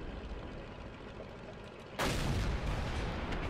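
A tank cannon shot in World of Tanks booms abruptly, a single loud broadband blast that then rolls on as a sustained rumble over steady engine-like background noise.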